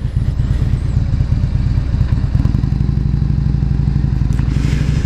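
Motorcycle fitted with a Vance and Hines 2-into-1 exhaust, running with a loud, close, steady low throbbing rumble, with some clatter over it and no talking.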